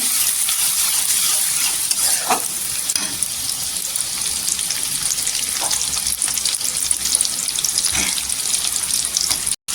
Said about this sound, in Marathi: कांदा छान असा गोल्डन कलर करून घ्यायचा।